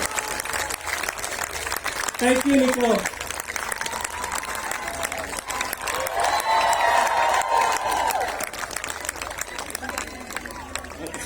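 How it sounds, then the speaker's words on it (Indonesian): Audience rises for applause and cheering at a corporate event, with sustained clapping, crowd noise and scattered shouts, while a voice or two is heard over the din. "kita berdiri, kasih tepuk tangan buat GM kita, CEO kita Niko."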